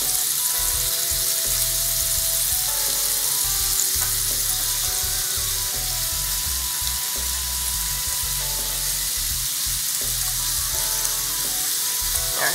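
Shrimp frying in a pan, a steady close sizzle and crackle of hot oil running throughout with occasional stirring, no voices.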